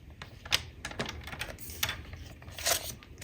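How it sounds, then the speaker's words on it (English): Scoring cardstock for a gatefold card on a scoring board, a series of light scraping strokes and small taps, close and fairly quiet, with a few sharper clicks spaced across the moment. "I'm gonna score at the bottom and at the top"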